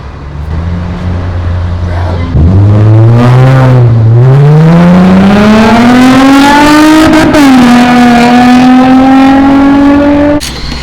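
A loud car passes close by a car wash, its engine rising in pitch as it accelerates, with a brief gear shift midway, then holding a steady roar before fading out at the end.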